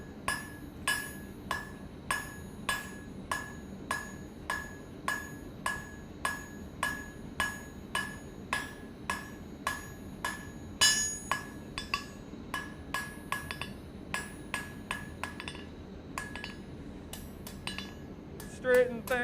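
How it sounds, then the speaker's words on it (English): A hammer strikes hot steel on an anvil while a taper is forged for a fire poker, a long regular series of bright ringing clanks at a steady rhythm, close and clear, turning faster and uneven near the end. "So I'm hammering on two sides"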